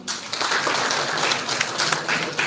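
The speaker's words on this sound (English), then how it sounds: "give a big applause to him" Audience applause at a college of engineering and technology inaugural event, a steady dense wash of clapping lasting a couple of seconds, fairly loud and continuous with no voices standing out.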